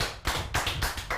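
Audience at the Médias Awards Guinée 2021 ceremony applauding a guest, with bursts of hand clapping rising and falling in quick pulses over a short stretch.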